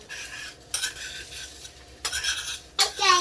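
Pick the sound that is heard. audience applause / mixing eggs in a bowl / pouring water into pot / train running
mixing eggs in a bowl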